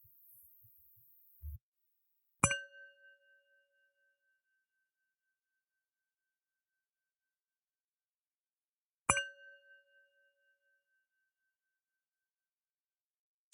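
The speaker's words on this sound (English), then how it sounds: "The show will begin after the following chimes." Two separate meditation chimes ring out alone in near silence, each a clear bright strike that lingers and slowly fades, spaced several seconds apart, with a faint click at the very end.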